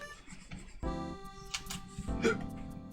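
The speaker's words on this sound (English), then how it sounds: "That was a hiccup." A couple of short, abrupt vocal catches, like small hiccups, close and fairly quiet, with faint background noise between them.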